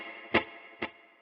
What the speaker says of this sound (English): I just have a light spring reverb sounding like this.